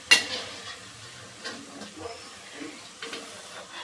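Bajji fritters fry in hot oil over a medium flame for a Davanagere snack, giving a steady soft sizzle with a few faint clinks and stirring scrapes; no one speaks.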